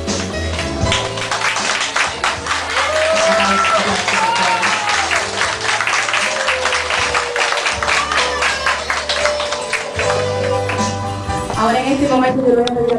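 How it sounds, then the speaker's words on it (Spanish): Applause from guests at a wedding party greeting the wedding sponsors, a steady dense clapping that carries on throughout under loud music and an announcer's voice. "Ahora vamos a recibir con un fuerte aplauso a los padrinos de la boda, Olga Acosta y Wilfredo Maldonado."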